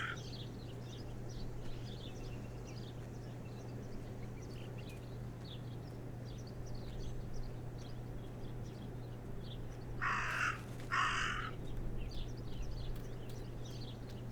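A raven in the video game Martha Is Dead caws twice in quick succession, harsh and fairly distant over a faint steady outdoor hum and occasional small bird chirps.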